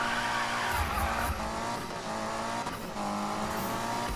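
A Mitsubishi Evo races along mountain roads in a video game, its engine roaring continuously with shifting revs and faint tire squeal, loud and steady with no talk.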